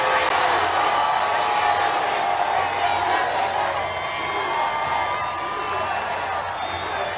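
A large crowd at a political rally in Miami, Florida, cheering and whooping loudly in a dense, sustained roar that slowly eases near the end.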